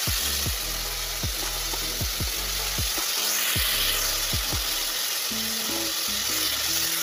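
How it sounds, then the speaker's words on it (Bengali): Bottle gourd peel frying in a pan with salt and dry chilli, a steady close sizzle broken by repeated sharp scrapes of stirring at a fairly regular pace. "আমি একটু নাড়াচাড়া করে নেব"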